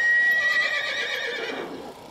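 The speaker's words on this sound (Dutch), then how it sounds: "Het is een fjordenpaard, oorspronkelijk uit Noorwegen." A Fjord horse of Norwegian origin whinnies at an outdoor horse event. The neigh is loud, close and wavering, and it fades out over about two seconds.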